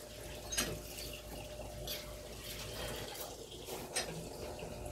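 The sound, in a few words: holy water poured for a house blessing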